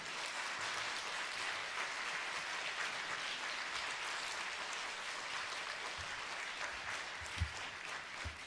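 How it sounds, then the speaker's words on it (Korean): A church congregation claps warmly to welcome the pastor at an evening revival meeting, a long, even wash of applause, distant and steady, with a few louder claps near the end. "우리 목사님 뜨거운 박수로 모시겠습니다"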